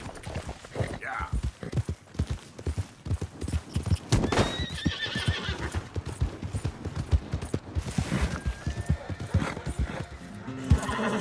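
Rapid hoofbeats of a galloping horse with loud whinnies and neighs in Red Dead Redemption 2 on Xbox One, over a busy game soundtrack and effects.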